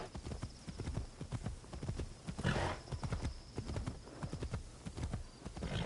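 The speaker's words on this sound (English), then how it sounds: "all you hearing is the patting of the horse hooves" Rhythmic clip-clop of horse hooves galloping in Assassin's Creed Shadows, a steady close thudding cadence with a faint whinny partway through, under quiet game ambience.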